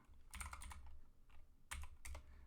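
Keys clatter on a computer keyboard during a Linux terminal session, two short bursts of quick typing separated by a pause, close and fairly quiet with a faint hum behind.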